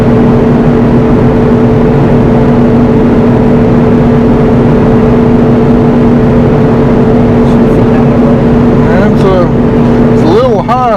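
Steady droning hum of a cotton harvester's engine and hydraulics as it spins and wraps a round module bale in plastic, continuous and loud throughout, with a speeding, warbling whine near the end and a voice talking over it.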